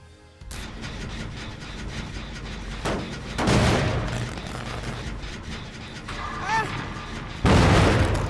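A generator explodes in the video game Dead by Daylight, giving sharp bursts of loud crackling noise against a steady game soundscape, with louder blasts after about three and seven seconds.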